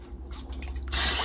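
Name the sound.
oil spray greasing a loaf pan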